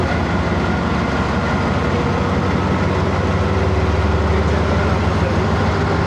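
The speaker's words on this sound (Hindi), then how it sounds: "लोकोमोटिव डिटैच हो रहा है इधर" A diesel locomotive rumbles and idles nearby while being uncoupled from a passenger train at a station on a line in Pakistan, a steady low engine drone with rail clatter throughout and no clear voices.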